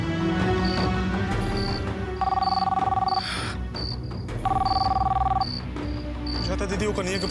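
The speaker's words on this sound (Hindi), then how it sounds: "जाता दीदी वो कन्हैया के फोन है।" An electronic telephone rings in two warbling bursts in a Hindi TV serial scene, set against a busy background of music and ambient sound.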